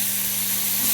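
Potatoes frying on a stovetop like home fries give off a steady, close sizzling hiss that holds at an even level for a single second, with no one talking.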